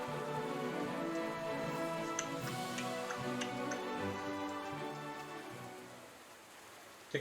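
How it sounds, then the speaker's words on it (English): A clock ticks in the video game Rise of the Third Power: sharp, fairly regular clicks over a steady wash of rain and soft sustained musical tones, fading slightly toward the end. "Tick-tock goes the clock."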